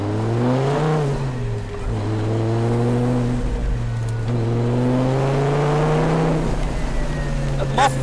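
A Donkervoort D8 GTO-JD70 sports car with a manual three-pedal gearbox revs close by, the engine note climbing in pitch, dropping on a shift or throttle blip, then rising again in repeated sweeps.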